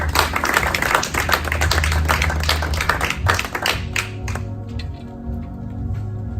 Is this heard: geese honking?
no